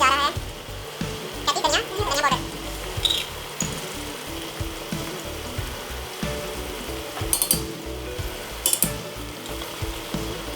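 Chicken browns in a pot with onions and garlic paste, sizzling and crackling with intermittent stirring and scraping, and some voices are heard over the cooking.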